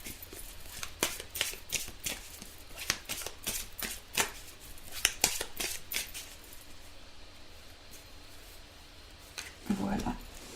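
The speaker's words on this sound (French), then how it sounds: "Donc je vais prendre une carte dans ce tarot." Tarot card deck being shuffled by hand in a quiet room, a series of crisp riffling and flicking bursts for several seconds, then stillness broken by a brief soft handling noise near the end.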